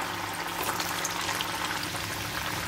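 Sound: potato kofta frying in hot oil

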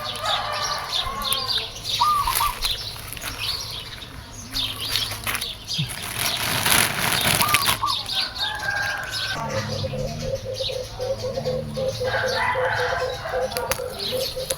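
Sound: birds chirping in a tree

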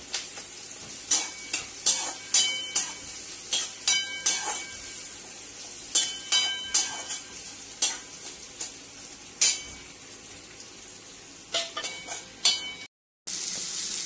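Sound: green chili and garlic-cumin paste frying in hot oil

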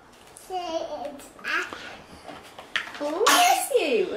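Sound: sneeze

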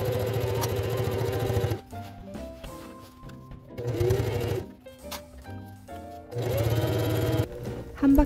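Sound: sewing machine stitching a shirt collar

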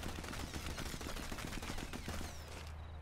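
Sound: rifle gunfire in video game Sniper Elite 4

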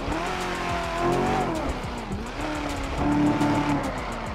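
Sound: Chevrolet Camaro car driving and skidding in GTA 5 video game

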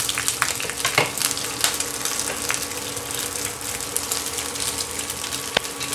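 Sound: coconut pieces frying with mustard seeds in oil

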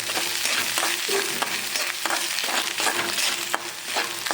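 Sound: grated coconut roasting in a pan for curry

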